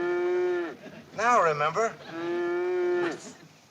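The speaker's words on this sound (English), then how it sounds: "Sounds like a cow's in there." A cow moos twice in long, drawn-out calls from inside a train car in a Christmas episode, fairly close and clear, with someone speaking briefly between the two moos.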